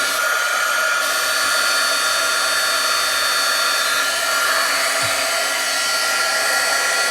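An embossing heat tool blowing hot air while warming up for stamping craft work, a loud, steady fan-like roar that runs close and unbroken throughout with no talking.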